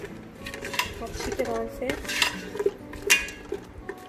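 Meat being mixed with black pepper in a metal dish for an Eid meat recipe, with a spoon clinking and scraping against the pot in irregular close bursts while someone speaks briefly.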